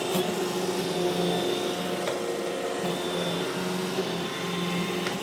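An iRobot Roomba E5 robotic vacuum cleaner runs indoors, producing a steady, close whirring hum with a faint tonal drone that holds without a break throughout.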